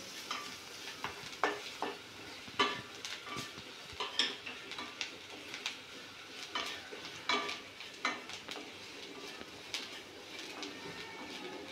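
A home-ground onion-garlic masala and homemade Byadgi chili powder fry in oil in a pan, with soft continuous sizzling and a regular rhythm of spoon or spatula scrapes and taps against the metal.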